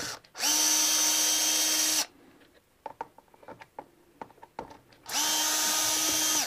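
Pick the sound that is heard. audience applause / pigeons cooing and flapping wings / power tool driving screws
power tool driving screws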